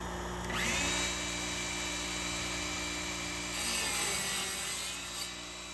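A DeWalt 20V Max 7 1/4 inch compact miter saw with its stock 40-tooth blade cuts through a 3.5 inch wide strip of 3/4 inch plywood, including a knot: a steady, loud motor whine with a high tone that rises at the start and again near the end.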